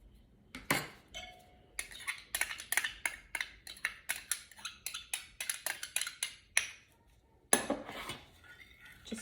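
Rapid, rhythmic clinking and scraping of a utensil against a bowl, stirring a melted melt-and-pour soap mixture, steady for several seconds, pausing briefly, then resuming, close by.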